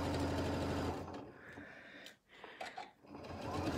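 A sewing machine stitches around a Christmas stocking, a close rapid mechanical whirr for the first second, then brief pauses and short bursts of stitching as the fabric is turned, running steadily again at the end.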